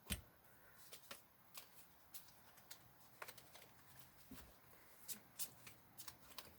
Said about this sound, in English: let me pull some cards